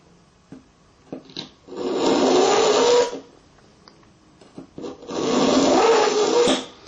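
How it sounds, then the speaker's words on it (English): A blunt kitchen knife is drawn through an AnySharp carbide sharpener in two long, harsh grinding strokes, with light clicks and handling noises in between. "we have this completely blunt kitchen knife, and they say the technique is just to run it through the carbide tips"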